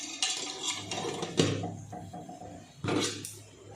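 A steel dhokla steamer plate and pans clank and scrape while freshly steamed khaman dhokla is lifted out in a home kitchen, with two sharp metallic knocks standing out among lighter rattles, no voices.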